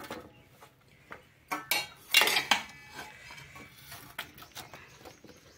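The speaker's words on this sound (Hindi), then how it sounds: "तो हम साग को निकाल लेते हैं बड़े से बर्तन में" Cooked mustard greens are scooped from a pot into a large vessel, metal utensils scraping and clinking in a scattered run of knocks and clatters, with one louder cluster in the middle, close and fairly quiet.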